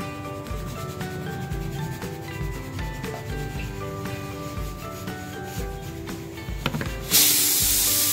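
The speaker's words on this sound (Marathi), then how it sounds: "आता मी कणिक मळून घेते." Chapati dough being kneaded by hand for two flatbreads, giving steady close soft rubbing and pressing sounds that repeat in a loose rhythm, with a brief louder hissy burst near the end and no talking.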